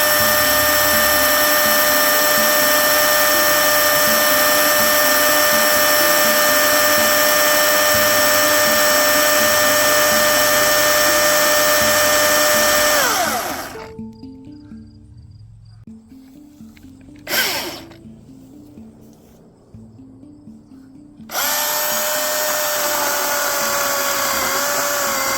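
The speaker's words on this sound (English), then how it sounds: "I did run the saw for 30 seconds to lubricate the chain." A Milwaukee 2727-20 16-inch cordless chainsaw runs loud and steady with a high electric whine, cuts off abruptly for several seconds with a brief burst in between, then starts up again at full speed.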